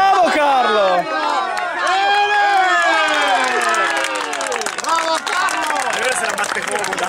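Fans at a 2009/2010 amateur football match in Vercelli shout and cheer in overlapping calls and whoops, a close, lively crowd of many voices.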